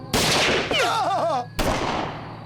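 Cartoon gunfire in a Lucky Luke western with aliens: loud sharp blasts open, then a warbling sci-fi whine, then another burst of shots, all close and dense.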